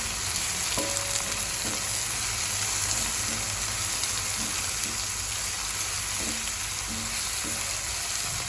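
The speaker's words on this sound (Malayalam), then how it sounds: "അപ്പോൾ ഉപ്പ് ചേർത്ത് കൊടുത്തിട്ട് നന്നായിട്ട് ഇളക്കി കൊടുത്താൽ ഇത് പെട്ടെന്ന് വഴറ്റി കിട്ടും" Onions sauté in a hot pan with salt, a dense, constant frying sizzle broken by regular scraping clicks of a spoon stirring them, close and loud with no talking.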